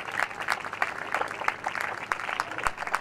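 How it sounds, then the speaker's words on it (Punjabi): Hands clapping together at a Christian church gathering in a village, a steady crowd applause with repeated sharp claps rising and falling at moderate loudness. "ਇੱਕ ਵਾਰ ਜ਼ੋਰ ਨਾਲ ਤਾਲੀਆਂ"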